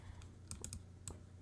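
A few separate keystrokes on a computer keyboard, spaced irregularly over a steady low hum, quiet and close, with no talking.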